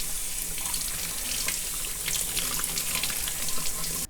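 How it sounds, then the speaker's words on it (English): A sink tap runs steadily while the roots of a Philodendron hastatum 'Silver Sword' plant are rinsed beneath it. The water spatters and splashes close by, loud and continuous, then cuts off sharply at the end. "Let's pop over to the sink and give this a rinse."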